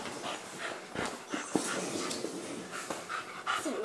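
A dog pants rapidly and close by, breaking into short high whimpers and little whines between breaths.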